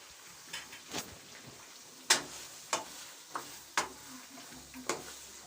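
Garlic-ginger paste frying in a pan for white chicken karahi, stirred in a handful of sharp scraping strokes over a soft, steady sizzle, close up with no one talking.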